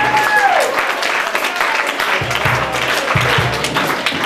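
An audience at a hardcore show at Grange Hall in Portland, Maine claps continuously and loudly, with crowd noise running through the whole stretch.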